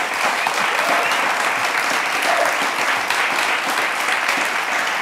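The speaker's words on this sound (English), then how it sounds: "we're applauding you because you've been a brave, brave, brave scientist that's standing up" Steady, full applause from a studio audience for a scientist, continuous and even throughout with no pauses, and no voices rising above it.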